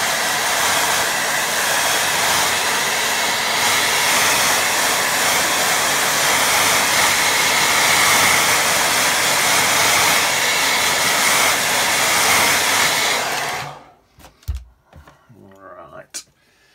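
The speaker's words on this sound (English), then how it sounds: "So let's give that one more blast with dryer." A hair dryer drying a watercolour painting blows loudly and steadily for several seconds, a broad hissing roar that switches off abruptly, followed by a few soft clicks and a voice.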